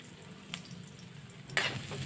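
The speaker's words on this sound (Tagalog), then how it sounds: "Mainit na, pumuputok na itong mantika. Pwede na natin ilagay itong marikado, itong sibuyas, bawang at luya." Onion, garlic and ginger dropped into hot, popping oil: a low background crackle, then a sudden louder sizzle burst near the end with a couple of sharp pops.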